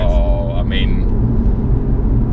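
Audi RS3 hot hatch from 2017 with a deep, steady engine rumble that stays loud throughout, with people talking over it near the start.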